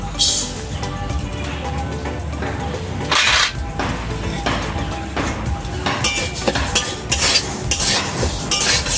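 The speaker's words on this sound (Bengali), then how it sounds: "মুগ ডাল আমার ভাজা হয়ে গেছে" Mung dal frying in a pan and being stirred with a metal spoon, a close sizzling hiss broken by repeated scraping and clinking strokes against the pan.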